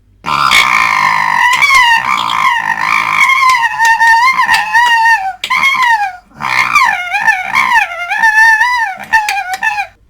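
A human voice imitates fox geckering: harsh, chattering, rapid rising-and-falling squeals in two long bursts with a short pause between, loud and close.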